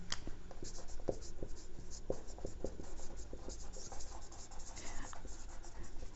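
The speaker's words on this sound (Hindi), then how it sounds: "तो चलिए लिखते हैं इसको" Marker or chalk writing on a board in a classroom lesson, a steady run of soft scratchy strokes with small taps, close and quiet, with no talking.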